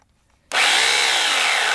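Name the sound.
Harbor Freight 14-inch electric chainsaw cutting wood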